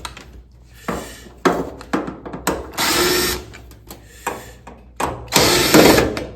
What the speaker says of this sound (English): let's just start taking screws out